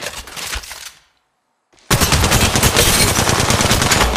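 Automatic gunfire from the mobile game Apex Legends Mobile bursts loud and close, with a short rattle, a brief silence, then sustained rapid fire to the end.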